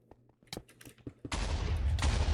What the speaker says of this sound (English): TNT cannon by YLM, but it's unsuccessful